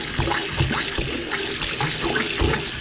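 Hot water runs steadily into a sink drain while a brush scrubs its inner walls during drain fly removal, a loud continuous splashing gush with rhythmic scrubbing pulses, close to the microphone.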